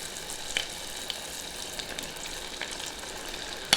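Pork spring rolls (lumpiang shanghai) frying in oil, a soft, continuous sizzle with faint crackles and a sharp pop near the end, quiet and unbroken by talk.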